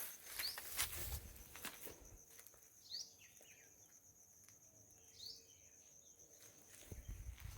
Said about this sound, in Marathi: शांतपणे मस्तपैकी पक्ष्यांचं ना किलबिलाट ऐकत गावलो